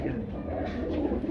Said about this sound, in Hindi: 40 के 40 फिरोजपुरी कबूतर हैं भैया